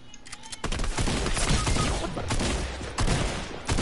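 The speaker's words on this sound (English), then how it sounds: "Shooting at me." Video game gunfire, rapid bursts of shots in quick succession after a brief quiet start, loud and dense, with a faint voice underneath.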